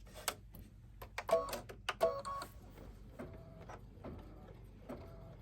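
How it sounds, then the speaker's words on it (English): An embroidery machine stitching out shamrock leaves gives a quiet run of rapid mechanical taps and ticks with short whirring tones, fairly faint and steady, with no voices. "now it's just going to stitch out the shamrock leaves or the little clover leaves"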